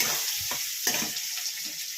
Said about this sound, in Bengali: এবার পেঁয়াজ দেবে, ওই তেলে পেঁয়াজ দিল, ওই তেলে পেঁয়াজ দিয়ে দিল।